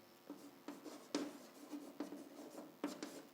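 Close, quiet scratching of a pen on a surface as a maths answer is written out for a statistics problem, with several distinct strokes in an irregular rhythm and no voices.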